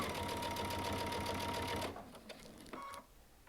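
Baby Lock Altair sewing machine stitching steadily through several thick layers of denim, a loud continuous mechanical whir for about two seconds that stops, followed by a few quieter clicks and a short beep-like tone.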